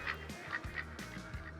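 Ducks in the hunting game Call of the Wild quack and honk in a rapid run of short nasal calls, several overlapping, fairly close and loud over a steady ambient bed.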